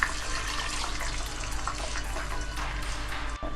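Water pours steadily into a cooking pot while making pineapple jorda, a sweet saffron rice dish, giving a continuous broadband splash with no talk over it.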